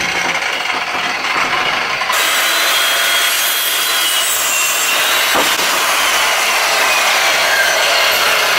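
A loud, steady Makita circular saw grinds through wood, one continuous harsh cut that holds for several seconds with no voices.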